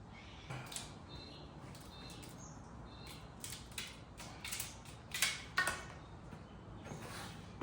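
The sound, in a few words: AN line cutters snipping fuel line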